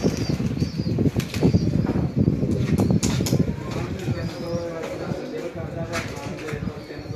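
Pigeons beat their wings in a loft at a pigeon keeper's dera in Lahore, a dense ongoing flutter with soft coos mixed in, close by, while people talk throughout.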